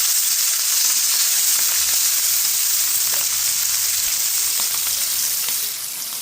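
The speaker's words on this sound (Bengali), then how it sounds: "সব শেষে রান্না করা হচ্ছে ইলিশের ভাজি।" Hilsa fish frying in a pan with chilli, giving a steady close sizzle and crackle that runs unbroken for several seconds, with no voices over it.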